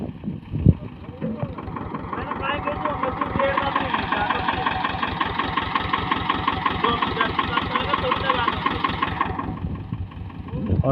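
A Mahindra or Powertrac 39 hp tractor engine runs steadily and loudly up close, a rhythmic chugging beat holding even for about ten seconds after a brief thump at the start.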